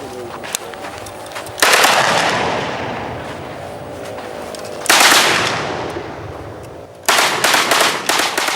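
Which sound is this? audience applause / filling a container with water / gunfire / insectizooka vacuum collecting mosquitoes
gunfire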